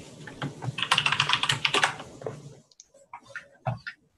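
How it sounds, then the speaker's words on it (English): Fast, dense clatter of keys on a computer keyboard, close and fairly loud, bursting steadily for a couple of seconds before thinning into a few scattered keystrokes. "rapid behind the scenes typing"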